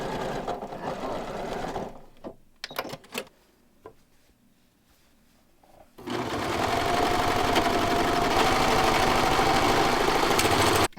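A home sewing machine stitches the waistband channel of pull-on pants with elastic inside, first in short loud bursts, then a pause, then a long steady close run of rapid stitching.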